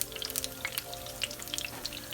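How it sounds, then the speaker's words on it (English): Acorn squash and yellow long neck squash from a home garden sizzle in a pan, giving a faint, steady crackle with scattered small pops throughout, no talking over it. "Because it's sizzling, I'm going to turn the heat down a little bit."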